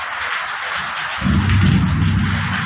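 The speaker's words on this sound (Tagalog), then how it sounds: "Grabe, sobrang lakas ng ulan dito sa site." Heavy rain pours steadily at a construction site, a dense, loud hiss throughout, and a deep rumble of thunder rolls in midway and lingers under the downpour.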